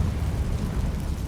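A Confringo fire spell bursts in Hogwarts Legacy, a dense low rumbling blast that holds steady for about a second and a half with no voices.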